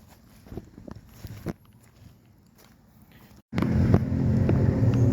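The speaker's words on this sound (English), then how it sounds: "there's a loud vehicle comes by me" A loud vehicle sweeps past close by at a fishing spot in Salem, Virginia, its sudden broad roar cutting in after a stretch of quiet footsteps and handling noises, then holding steady.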